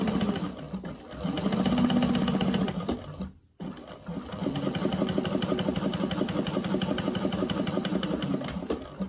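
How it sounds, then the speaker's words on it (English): A sewing machine runs steadily in rapid mechanical stitching bursts, pausing briefly once before resuming at a close, even pace. "I might just take this over to the sewing machine."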